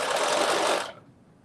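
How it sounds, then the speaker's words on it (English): A sewing machine stitches along a fabric edge in a short, close, loud whirring run that stops abruptly near the end, leaving quiet. "I'm just going to start sewing it"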